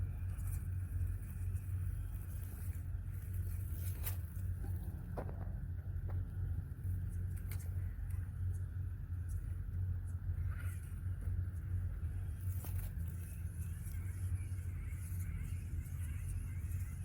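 An RC crawler truck drives through a winter crawl over ice and snow. Its drivetrain hums as a steady low rumble throughout, with scattered sharp clicks and crunches on top and no voices.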